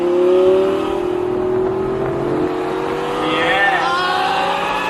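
A McLaren 570S Spider launching from a standstill, its engine rising in pitch as it accelerates hard and pulls away, with voices around it.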